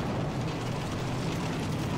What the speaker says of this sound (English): That was a nice big explosion.